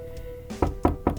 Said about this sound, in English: she knocks on it or rings the doorbell